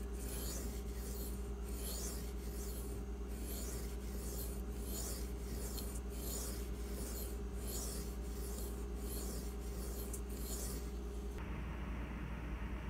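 A knife blade is drawn across a Venev bonded diamond sharpening stone in a quiet, rhythmic series of about a dozen rasping strokes, close and soft, with no talk.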